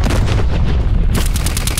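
Heavy artillery fire in Call of Duty Black Ops Cold War: dense, continuous booming and rumbling blasts, loud and close, with a sharper burst of cracks near the end.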